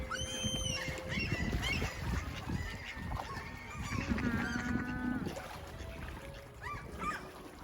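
Geese honking at the seaside while being fed, with repeated nasal calls rising over lapping water and a general murmur of fowl, fairly close and continuous.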